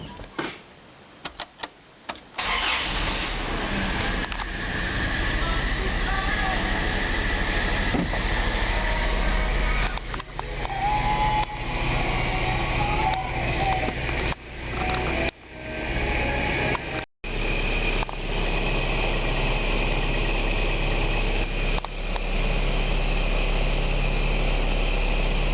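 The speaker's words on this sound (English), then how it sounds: "What we'll do is just start the engine up and have a look at the" An Isuzu Holden Rodeo engine with a new alternator cranks briefly, catches and settles into a steady low idle that runs on continuously, close and fairly loud, with a few brief dropouts.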